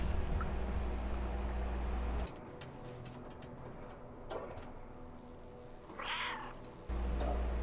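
A stray cat meowing in a game, with a couple of short, moderately loud meows over a steady background hum.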